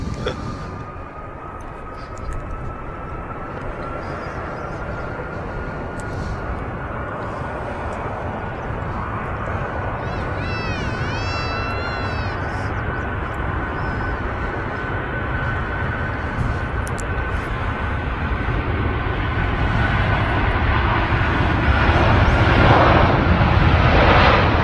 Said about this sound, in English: There we see VS 109 departing to Atlanta,